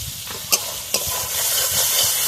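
Spices with salt and ground coriander being stir-fried in hot oil for a soybean and egg curry, a steady sizzle and hiss with a few sharp spatula scrapes and clicks near the start, close and fairly loud, no talking.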